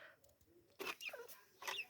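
Village chickens cluck in short bursts at moderate distance, a few separate calls against a quiet background.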